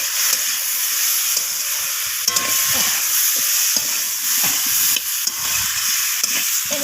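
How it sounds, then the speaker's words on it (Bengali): Vegetables and fish roe with ginger paste and salt are stir-fried in a pan, giving a steady close sizzle with the scrape and clack of a spatula as the mix is stirred. The frying noise runs continuously with no voices. "তো আবারও আমি সব কিছু একসাথে এইভাবে কষিয়ে নিচ্ছি নাড়াচাড়া করে"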